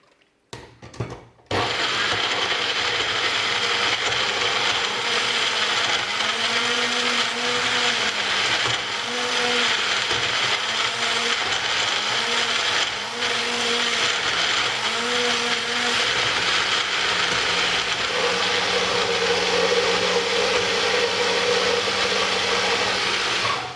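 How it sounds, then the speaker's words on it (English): An electric blender grinds onions and spice paste with added water for a Malaysian devil's chicken curry, a steady loud whirring drone after a few brief starts, with the pitch shifting slightly as the mixture churns. "So I've got my blender ready."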